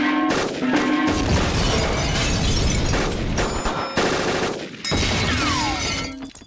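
Assault rifle gunfire in a video game, rattling off in loud, rapid bursts that start and stop several times, close and dominant with no talking.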